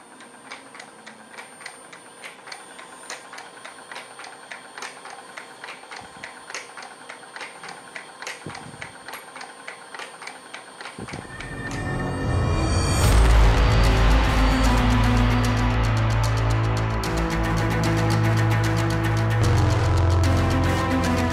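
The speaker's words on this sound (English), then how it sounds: "start the rotation of the boring bar, and it will automatically feed at 10 thousandths depth of cut across this face as I turn the machine on" A CLIMAX BB5000 boring bar and facing head ticks steadily at first, a rhythmic mechanical clicking, then the machine starts rotating and facing at 10 thousandths depth of cut, and a loud dense drone with grinding tones takes over and continues.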